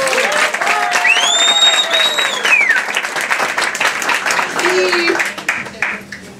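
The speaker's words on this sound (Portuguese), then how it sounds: "aplausos para o Viola de Fado Armstrong Helder" Audience applause for a fado guitarist, dense clapping from a crowd that runs under a voice and stray tones before thinning toward the end.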